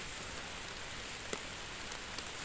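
Heavy rain pouring down outdoors, a dense steady hiss of drops drumming on surfaces, close and continuous with a few sharper splashes, no talking.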